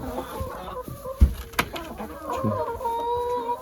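A broody hen on a village farm clucks in short, low bursts, mixed with other fowl calls and a few sharp knocks, all close by.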